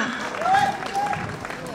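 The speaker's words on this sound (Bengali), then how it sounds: "সবাই তালি দিব, জোরে হাততালি দেই একটু" An audience at a picnic stage claps, a short swell of applause mixed with a voice speaking over it.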